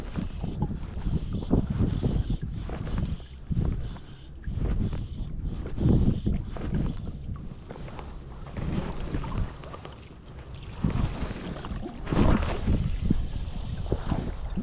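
Wind gusting steadily across an open riverbank during fly fishing on the River Eden at Eden Lacy, a broad rushing roar that swells and eases in waves, with occasional soft handling noises close by and no talk.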